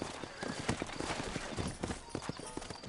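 Horse hooves clip-clopping at a steady trot in the video game Red Dead Redemption, close and continuous, with some faint background noise.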